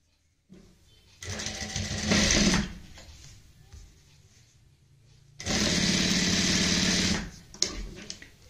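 An electric sewing machine stitches a lace neck patch onto printed fabric in two close, steady bursts, a shorter run and then a longer sustained whir, with quiet handling between them.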